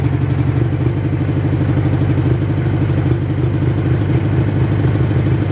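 A Craftsman small engine with a suspect ignition coil idles roughly, chugging in a steady pulsing rhythm with loud, close mechanical clatter throughout.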